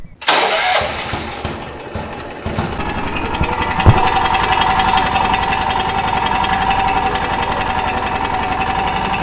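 A Munckhof Pluk-o-trak machine with a worn, slipping V-belt starts up with a sharp burst, then runs loudly and steadily as a continuous mechanical drone with a faint high whine. No one speaks.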